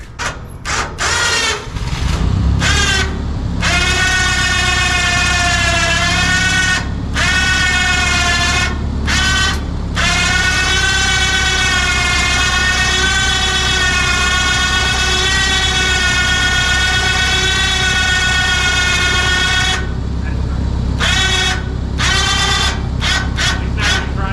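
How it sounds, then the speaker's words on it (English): A winch strains under load while lifting the bed of a DIY dump trailer converted from a 5x10 utility trailer, giving a loud, steady whining motor drone with layered tones that cuts out and restarts several times. "just to see what kind of strain I can put on this winch"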